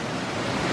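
Rushing water at Wagner Falls, a small side fall beside the main waterfall, makes a steady, dense broadband roar for under a second, with no voices.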